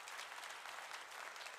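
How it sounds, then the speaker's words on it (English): Applause fills a school meeting, a brief burst of dense, even clapping from an audience in a hall, heard at a moderate distance. "amazing big round of applause for the parents that came up here"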